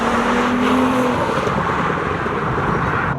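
A Golf 1 Cabriolet fitted with a swapped R32 engine accelerates hard, its loud, sustained engine roar rising briefly in pitch and then holding steady throughout, with no talking.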